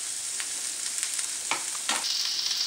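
Onions and red bell peppers frying over medium-high heat crackle and sizzle softly, with a few spatula scrapes and pops partway through.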